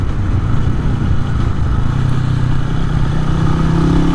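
A Honda CB250RS single-cylinder motorcycle, suspected of a carburettor fault, runs loud and close while being ridden, giving a steady engine drone whose note shifts slightly near the end.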